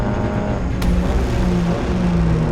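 F4 race cars run at the Yacademy Winter Series at Homestead on Hankook tires, their engines a steady loud drone with low tonal hum throughout and no voices over it.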